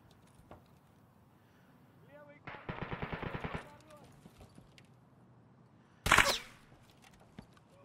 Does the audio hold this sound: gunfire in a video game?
yes